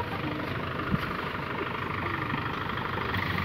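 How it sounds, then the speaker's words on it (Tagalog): Kubota L5018 tractor engine idling outdoors while hitched to a large trailer for hauling corn, a steady low rumble running evenly throughout with one brief knock near the start. "nakahanda na yung traktora nila para mag-hakot"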